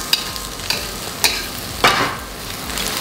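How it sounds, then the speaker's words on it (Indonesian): Capcay vegetables are stir-fried in a hot pan as cauliflower goes in. A steady sizzle runs throughout, broken by several sharp scrapes and clanks of the utensil, with no talking. "Kembang kol kita masukkan karena keras"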